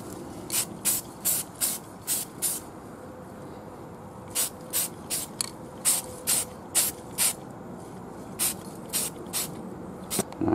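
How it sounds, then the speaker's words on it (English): Reddish brown Rust-Oleum 2x Ultra Cover spray paint hisses onto tabletop terrain in about twenty short, evenly spaced bursts, near and crisp, grouped into three runs with brief pauses between them, and no talking. "So spray paint all of that."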